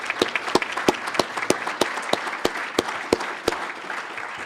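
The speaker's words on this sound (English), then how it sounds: "So let's give him a round of applause." A small audience at a land stewards panel gives a round of applause, a short burst of moderately close hand clapping with distinct individual claps.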